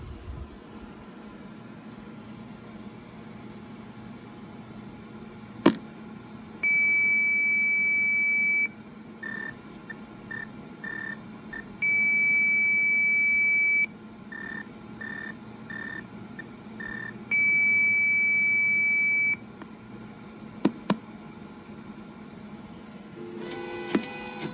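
A DSC PC2550 alarm panel sends a report with three long, loud steady tones, each about two seconds, separated by quieter rhythmic pulsing chirps over a low background hum; nobody talks.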